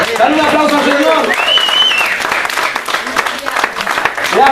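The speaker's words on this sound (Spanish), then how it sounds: "Dale un aplauso al Señor." Congregation applauding in church during a sermon, a dense continuous patter of many hands, loud and close, with voices calling out and speaking over it.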